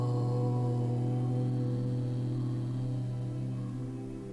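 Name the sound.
person chanting the syllable Om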